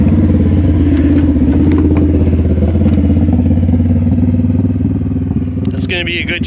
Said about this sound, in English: It's gonna be a good chance to hear that fresh exhaust.